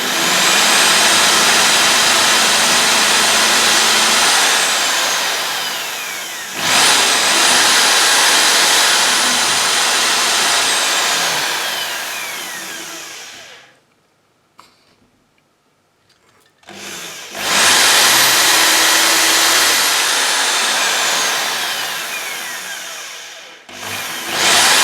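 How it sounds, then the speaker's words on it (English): A power drill bores a series of holes along the edge of a model boat hull, loud whining bursts running several seconds each, with a brief quiet pause between two long runs. "now I just take the drill and start drilling holes till I'm blue in the face"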